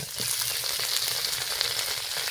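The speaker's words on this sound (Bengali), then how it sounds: "মিষ্টি কুমড়ার ডোগাটা খুব সুন্দর করে একটু ভেজে নেব।" Pumpkin shoots fry in hot oil with crushed garlic and dried chili, giving a steady close sizzle with light crackle and a soft stirring scrape.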